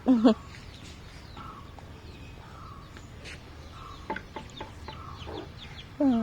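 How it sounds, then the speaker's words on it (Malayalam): A mother hen clucks close by in short, strained bursts at the start and again at the end, with a few fainter calls and quiet background noise in between. "തള്ളക്കോഴി സൗണ്ട് ഉണ്ടാക്കുന്നുണ്ട്."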